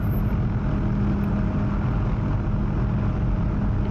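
OH-6 helicopter lifting off from runway 27 in the DCS flight simulator, a steady low rotor and engine drone with a faint hum, constant and even.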